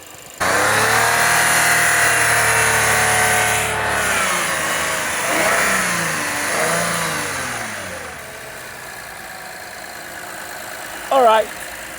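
Toyota Mark X engine, suffering overheating, fast coolant loss and engine noise, starts and runs loud and close, its pitch rising and falling through a few revs before settling, with a brief voice near the end.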